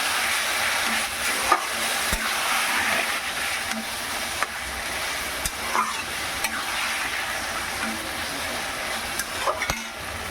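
Taro leaves being stirred and fried in a pan for a hilsa fish-head dish, a steady broad sizzle with scattered scraping clicks of the spatula throughout, close and continuous with no talk.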